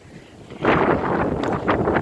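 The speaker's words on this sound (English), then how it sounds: "Whenever that wind hits your face, it's like pure ice." Strong wind gusting outdoors during a blizzard, buffeting the microphone with a loud, rough roar that swells after a quieter start and keeps pulsing.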